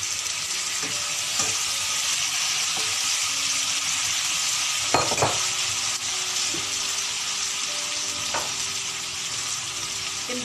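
Pork chops fry in a hot pan with a steady, loud sizzle and crackle that runs throughout, and a few brief clanks and scrapes from turning the meat.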